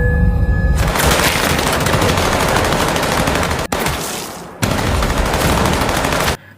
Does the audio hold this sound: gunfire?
yes